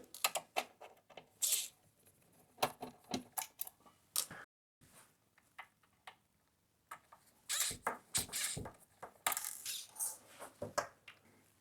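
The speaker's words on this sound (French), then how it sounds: "donc je vous les dévisse vite fait" Screws are unscrewed from an HPE ProLiant MicroServer Gen11 case, giving close, irregular clicks, creaks and small mechanical scrapes in bursts, with a brief quiet gap between them.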